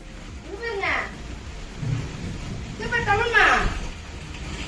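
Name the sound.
rain falling with thunder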